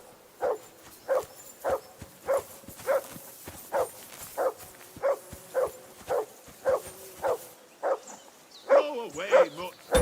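A dog barks repeatedly in Kingdom Come Deliverance 2, steady single barks about every half second, moderately close, with a voice speaking over the last few barks.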